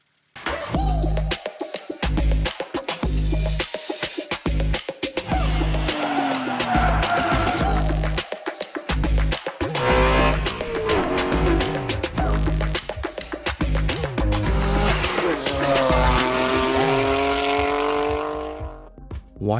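A BMW G80 M3 Competition revving hard and repeatedly, the loud engine note climbing and falling in rapid sweeps with crackling bursts, near and sustained until it fades at the end.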